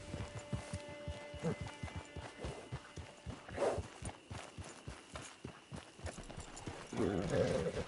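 Horse hooves clip-clop at a steady walking pace on hard ground in Red Dead Redemption 2 Online, close by and fairly quiet, with brief voices breaking in between the steps.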